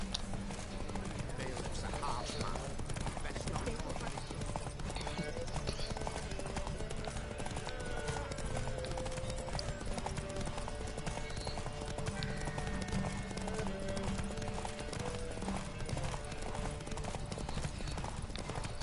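Roach the horse gallops in a race in the game Witcher 3, sending out a dense, continuous clip-clop of hooves. A brief whinny surfaces among the hoofbeats, and music and game noise sit underneath.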